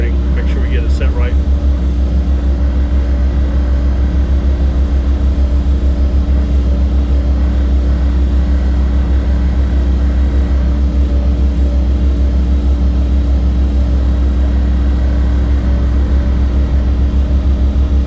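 A heavy vibratory hammer drives a piling pole into place for a boardwalk dock, a loud steady low-pitched droning hum throughout with a constant mechanical buzz and no breaks.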